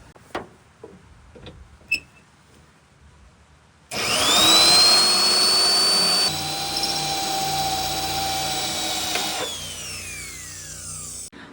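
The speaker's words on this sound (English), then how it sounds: "watch the panel pop out once I drill this spot weld" Several faint clicks, then a loud high-pitched drill whines steadily for about five seconds drilling out a spot weld on a panel, bogs slightly, and winds down near the end.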